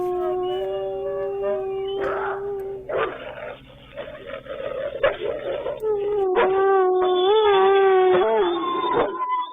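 Several wolves howl together, long rising and wavering cries layered over one another, with yips and whimpers mixed in, fairly close.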